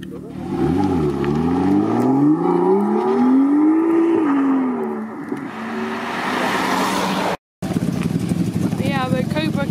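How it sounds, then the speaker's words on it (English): An Aston Martin revs hard as it leaves a supercar festival held on an airport runway: a loud, close engine roar whose pitch climbs and falls through repeated revs, then trails into a rougher idle and distant engine noise. "Sounds from the Aston Martin."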